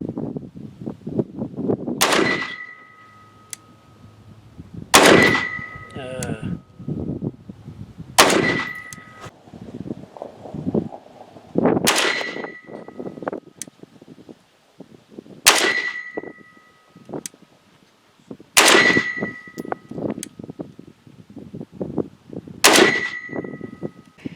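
Rifle shots from a KelTec RDB with a bare 20-inch barrel and no flash hider ring out one at a time, seven loud sharp cracks spaced a few seconds apart, each with a metallic ring and a short echo outdoors.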